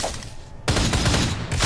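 Burst of gunfire from a girl's gun in the video game Pascal's Wager, a sharp loud onset of rapid shots after a quieter moment, continuing as a dense rattling volley.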